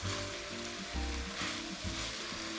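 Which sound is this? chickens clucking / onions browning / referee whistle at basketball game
onions browning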